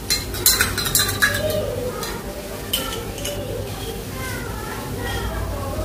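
A spoon stirs salt into water with clinking scrapes against the container, close up, while a person speaks over it.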